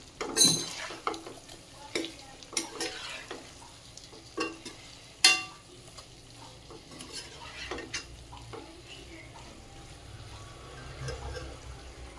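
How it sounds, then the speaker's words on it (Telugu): Chicken pieces frying with salt in a pan for fried piece biryani, soft steady sizzle with sharp clinks and scrapes of stirring at the start, the frying hiss continuing alone. "ఉప్పు వేసి ఫ్రై చేసుకుంటున్నాను"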